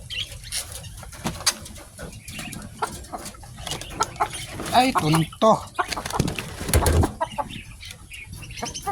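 Chickens being fed flutter and flap their wings close by, with scattered clucks and rustling, while a person speaks briefly.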